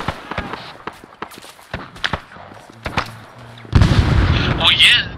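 A grenade goes off during a night battle in a shooter video game: scattered sharp gunfire-like pops lead into one loud, broad blast near the end that rumbles on.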